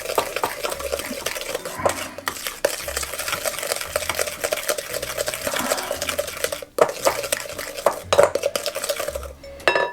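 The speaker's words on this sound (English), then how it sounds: "We're just going to stir that in there." A utensil stirring plantain bread batter in a bowl, with repeated clinks and scrapes against the bowl in an uneven rhythm, close and fairly loud, without talking.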